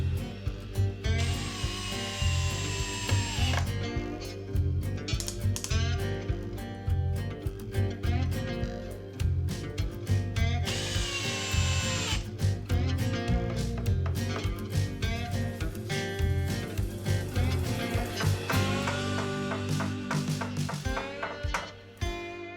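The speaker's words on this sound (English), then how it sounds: "And then once they're fair to that curve, I can screw those in place." A power drill drives screws into the wooden frame sides of a boat under construction, with repeated high whining bursts over a continuous loud music bed, near and steady throughout.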